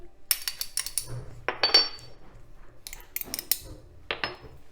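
A spoon clinks and scrapes against a bowl while yeast is mixed with sugar for burger buns, in intermittent close bursts of small metallic taps and stirring.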